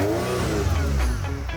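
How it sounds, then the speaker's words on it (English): A Ferrari 308 GTS engine revs hard and loud close by, a sustained throaty roar with rising and falling pitch and no talking over it. "Ferrari. Yeah, 308 GTS. That's the sound."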